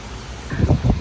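Wind buffets the microphone in low, gusty rumbles that swell in the second half, with a steady airy hiss behind them.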